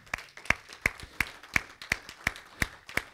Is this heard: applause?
yes